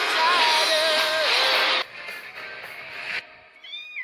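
A cat meows loudly in a long, drawn-out wail, followed by softer sounds and a brief higher meow at the end.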